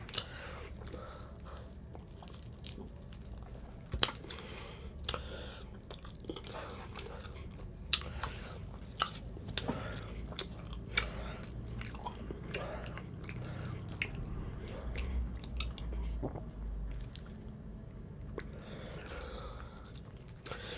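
Soft, close chewing and biting on thin, flaky Egyptian feteer meshaltet (rustic village-style feteer), a quiet, irregular run of small moist bites and squishy mastication over a low background hum.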